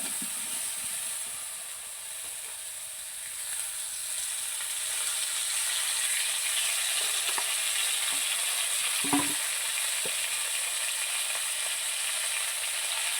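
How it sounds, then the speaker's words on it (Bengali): Ingredients fry in a pan with a loud, continuous hissing sizzle that swells after a few seconds. Occasional soft clicks of stirring come through, and no one speaks. "এগুলো এখন সুন্দর করে ভাজে নেব।"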